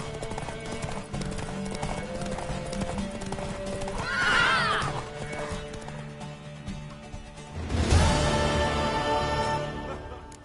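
Horse galloping and whinnying in The Witcher 3: steady hoof beats drum throughout over game sounds, with a loud neigh near the middle and a second, stronger whinny toward the end.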